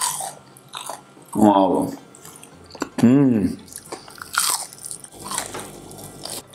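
Someone bites into a vegan chicken-style product from Les Nouveaux Fermiers, giving two loud, close crunches followed by softer wet chewing, with a brief exclamation.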